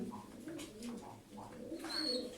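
A tumbler pigeon, a game bird, gives soft low coos in short repeated phrases, faint and close, with a brief higher chirp near the end.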